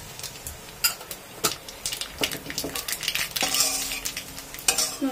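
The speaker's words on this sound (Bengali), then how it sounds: "শুকনো লঙ্কাটা আর কালো জিরাটা হালকা করে একটু ভেজে নিলাম।" Dried red chili and black cumin fry lightly in hot oil, with repeated clinks and scrapes of a utensil stirring against the pan over a soft sizzle.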